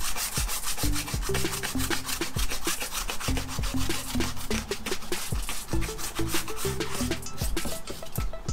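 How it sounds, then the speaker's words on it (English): Light sanding on a Can-Am Ryker wheel rim, heard as close, rhythmic back-and-forth abrasive strokes in quick repeated bursts, steady and fairly loud with no talking. "Not gonna go too deep. Just a nice little sand."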